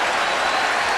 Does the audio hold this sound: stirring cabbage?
no